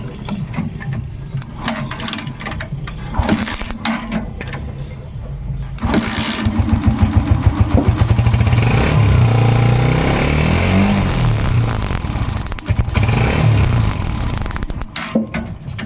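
A Honda TMX 125 Alpha motorcycle engine fitted with a high-performance ignition coil runs loud and close, a steady buzzing idle that swells into a sustained roar after a few seconds of rougher sputtering.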